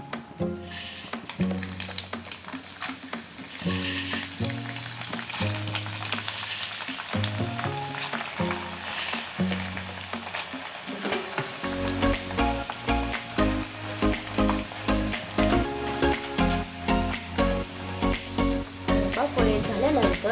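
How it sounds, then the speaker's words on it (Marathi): Corn poha flakes fry in hot oil for a Diwali chivda, giving a continuous crackling sizzle. Music plays over the frying and grows fuller partway through. "आता आपण मका पोहे तळून घेऊया"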